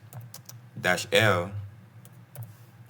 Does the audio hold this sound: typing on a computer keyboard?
yes